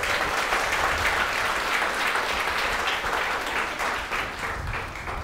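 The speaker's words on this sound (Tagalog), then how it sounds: "Pumalakpak ng the best ang mga anak." Church congregation applauding during a worship service, a loud sustained burst of many hands clapping together, steady throughout and slightly fading toward the end.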